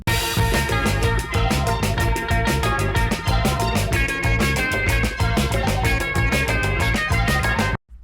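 Opening four bars of a song, a dense sampled groove with driving drums, bass and bright guitar-and-keys chords, loud and continuous before cutting off abruptly near the end.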